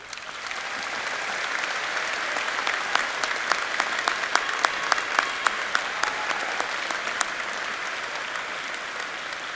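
Steady applause from a sizable crowd at a high school graduation ceremony, a dense patter of clapping with sharper individual claps standing out, continuing evenly throughout.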